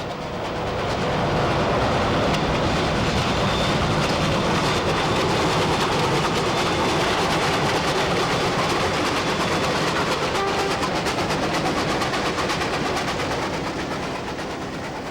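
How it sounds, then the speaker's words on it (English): Train hauled with an added 11-class diesel pulling out of Rosebery station on the Emu Bay Railway in Tasmania, a steady loud rumble of engine and rolling wagons with clickety-clack, holding close and constant throughout. "the train departs Rosebery with the addition of an 11-class diesel to the consist"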